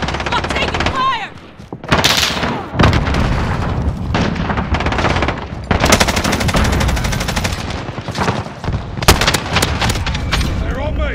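Call of Duty gameplay with near-continuous rapid machine-gun fire and heavy gunshots, punctuated by booming blasts, loud and dense over the full stretch with brief lulls, and voices talking underneath.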